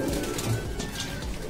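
Punjabi pigeons coo softly at a crowded pigeon market, a few low rounded calls close by against a busy background murmur.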